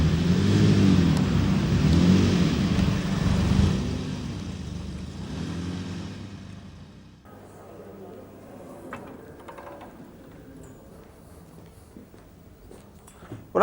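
A classic Jaguar car engine runs loud and droning, then fades to a quieter rumble partway through, with a person talking over it.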